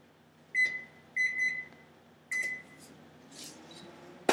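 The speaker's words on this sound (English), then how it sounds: "Microwave this for 9 minutes on high." Keypad beeps sound as a microwave oven is set for nine minutes on high to cook rice, three short tonal bleeps and a brief chime, then a quiet hum as it starts.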